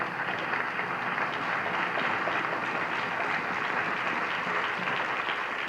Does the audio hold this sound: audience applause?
yes